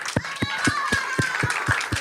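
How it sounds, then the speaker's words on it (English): Clapping at a children's ministry Christmas event: a steady, rhythmic run of sharp claps about four to a second, close and even, with faint voices in the background. "Give her a round of applause, please."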